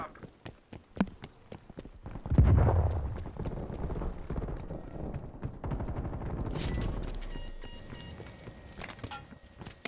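Muffled thumps and concussive bursts from stun grenades in Call of Duty: Black Ops Cold War multiplayer, mixed with gunfire, footsteps and in-game voices, loud and chaotic with a swelling rumble.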